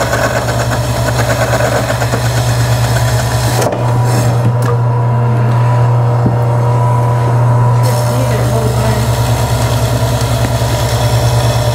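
Electric meat slicer with a 340 watt motor cutting frozen meat for jerky, a loud steady motor hum with a deeper loaded drone in the middle stretch as the blade works through the meat.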